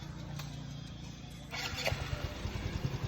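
A Mio i 125 motorcycle with a sputtering engine fault, fixed by a new filter: a low background hum, then the engine catches about halfway through and runs with a steady, close rumble.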